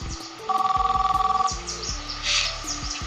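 A telephone bell rings in a clear electronic double trill for about a second, close and fairly loud, over soft background music and room noise in a French-dubbed telenovela scene where kidnappers are calling.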